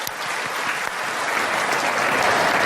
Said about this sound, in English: please give another round of applause for our young generation and their wonderful performance